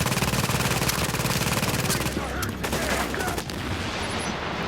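Rapid automatic gunfire from long-range weapons in The Division multiplayer game, a dense loud burst of rattling shots that breaks into scattered single cracks and fades.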